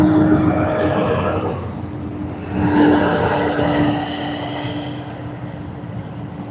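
A Rex regional airliner arriving from Port Macquarie lands on runway 16L at Sydney Airport, a broad roaring rush with a steady whine that swells midway and then slowly fades, heard from a distance.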